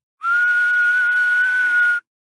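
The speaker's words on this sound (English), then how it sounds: "A burgundy-faced captain near the range blew a whistle and ran toward her." A single shrill whistle blown by a captain, one sustained steady blast of about two seconds, loud and close, with nothing else around it.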